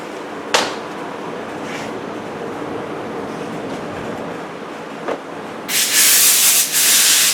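Green corrosion being scrubbed off a part from a 2003 Harley Davidson Night Train: a steady rough abrasive rubbing hiss with a couple of brief knocks, then louder harsh scrubbing strokes near the end, close and without talk.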